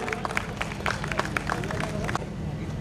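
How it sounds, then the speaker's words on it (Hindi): Applause from an audience at a Rengali Mahotsav mini marathon award ceremony, steady scattered clapping over a crowd murmur that thins out near the end. "हरीश ताकले बोले तुम समस्त गोटे ताली दियो"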